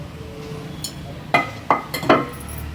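Roasted spices are pounded on a stone grinding slab for kharda chicken, a few sharp knocks spaced irregularly over a quiet kitchen background.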